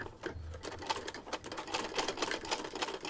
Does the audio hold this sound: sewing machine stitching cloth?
yes